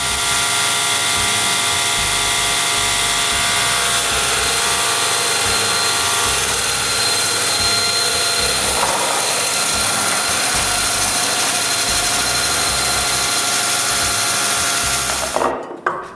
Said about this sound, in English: cut them on the table saw